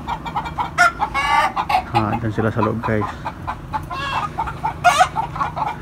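Chickens cluck and chatter close by in a busy, uneven stream inside a lit house, with a short burst of louder clucks midway and a person speaking briefly in Filipino.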